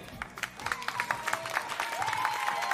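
A live audience claps to vote for the squacquerone team at a summer evening event in Romagna, scattered claps building under crowd noise and a high whistle-like tone.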